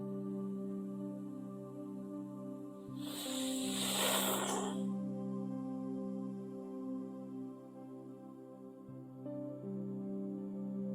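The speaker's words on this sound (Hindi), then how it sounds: "जब हम लोग सांस अंदर लेंगे तो सांप की तरह आवाज होनी चाहिए" Sheetkari pranayama breathing demonstrated in a yoga session: a single sustained, snake-like hiss of drawn-in breath lasting about two seconds, clear and close over a steady low background hum.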